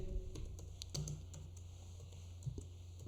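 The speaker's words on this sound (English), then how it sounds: "we will type April" Soft keystrokes on a computer keyboard sound as a short word is typed into a spreadsheet, a few faint, scattered clicks over a quiet room hum.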